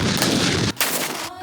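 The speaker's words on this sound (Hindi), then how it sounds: "फिजा तोपों की गन गरज से गूंज उठी" Ceremonial cannons fire an Independence Day gun salute in Pakistan, loud and booming, with heavy rolling rumble, a sharp break, then another blast echoing out.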